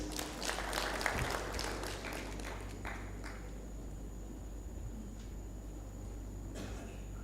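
An audience at a general assembly of African public service commissions claps for a few seconds, fairly distant and soft, and the applause thins out and fades into room quiet.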